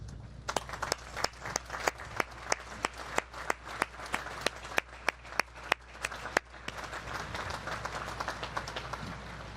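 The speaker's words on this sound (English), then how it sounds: "Please join me in recognizing and applauding these distinguished graduates." Audience applause at a United States Naval Academy commencement, a dense wash of clapping with sharp individual claps standing out, steady for several seconds before thinning, heard from a distance.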